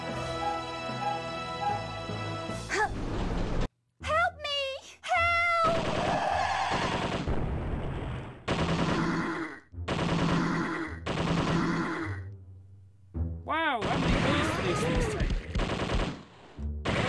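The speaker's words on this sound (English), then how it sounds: "Machine gun." Machine gun fire in a retro zombie video game, rapid electronic bursts recurring through the stretch amid chiptune-style game sounds, including a cat-like meowing effect.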